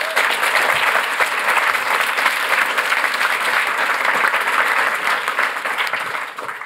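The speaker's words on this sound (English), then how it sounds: "Loud round of applause" A tech conference audience gives a loud, dense round of applause as a speaker from Substack is welcomed to the stage. The clapping is steady and enveloping and tapers slightly at the end.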